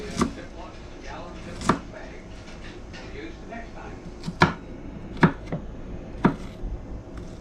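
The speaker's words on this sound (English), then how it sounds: "Got all the onion diced up there." A knife dices onion on a cutting board while potato salad is being made. Six sharp, separate chops are spread unevenly over several seconds against a steady kitchen background.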